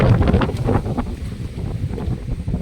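Strong wind buffeting the microphone in heavy, rumbling gusts, loud and continuous with no other clear sounds.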